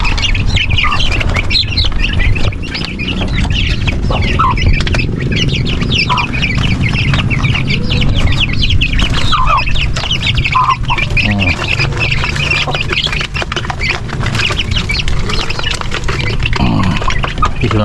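A crossbred brood of hens and chicks clucks and cheeps steadily at close range, with occasional wing flaps and higher tweets over a constant farmyard backdrop.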